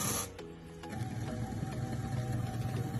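A sequential dishwasher that imitates hand-washing runs its wash cycle with a steady, busy mechanical whirring and rattling hum, loud and close, after a short hiss at the start.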